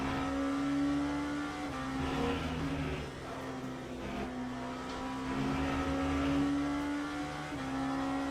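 LMP3 race cars in a racing video game, engines droning loud and steady with a sustained tone that shifts pitch as the cars run on, tyre noise mixed under the engine roar.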